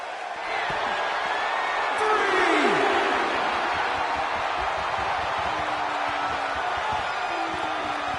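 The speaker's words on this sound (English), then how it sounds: "Another electric crowd on hand here for SmackDown" Arena crowd noise from a WWE SmackDown wrestling video game, a dense, steady roar of cheering spectators filling the whole span, swelling slightly near the middle, with brief whoops and pitched shouts rising out of the din.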